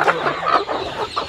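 A native country chicken raised on ragi and jowar clucks close by in a short burst of quick, throaty calls.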